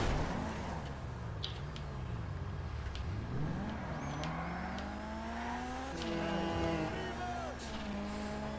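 A car in GTA V Online drives along, its engine droning steadily and shifting pitch as it revs up and eases off, with faint tire noise and game sounds in the background.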